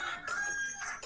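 Chickens cluck and squawk nearby in a short burst of bright, overlapping calls.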